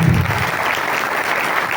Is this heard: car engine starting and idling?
no